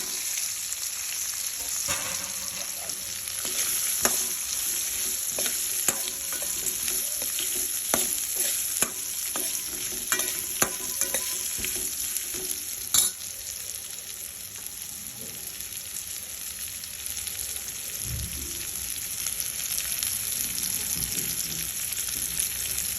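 Washed bitter gourd pieces fry in a pan with a steady bright sizzle, punctuated by occasional scrapes and clinks of stirring, with no talking.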